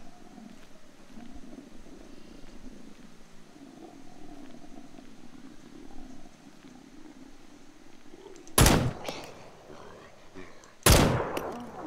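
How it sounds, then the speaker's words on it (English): Two sharp, loud gunshots ring out near the end of a stretch of quiet outdoor ambience in the survival video game SCUM, each a sudden broadband crack with a short decaying tail. "They went to where the gunshot was."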